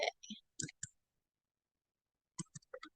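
Computer keyboard typing in two short bursts of clicky keystrokes separated by silence, close and fairly quiet, while entering data into ERP software.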